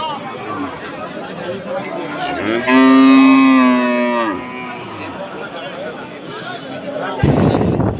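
A cow moos loudly and long at a cattle market, a single drawn-out harmonic call standing out over steady crowd chatter and nearby voices, with a brief burst of noise near the end.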